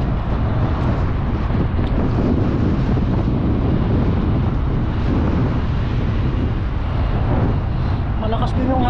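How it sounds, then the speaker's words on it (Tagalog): Strong wind roars continuously across an outdoor fishing spot near a dam, buffeting the microphone with dense, loud rumbling noise throughout and no pauses. "Malakas din yung hangin dito mga katuto."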